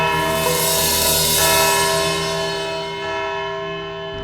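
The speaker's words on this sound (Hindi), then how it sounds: "घंटी बज गई" A bell rings in a courtroom with a sustained, loud, ringing tone that holds steady for several seconds and slowly fades toward the end.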